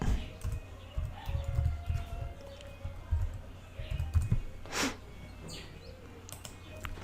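Typing an email address on a computer keyboard: bursts of soft, quick key clicks in irregular clusters, fairly faint, alongside someone talking.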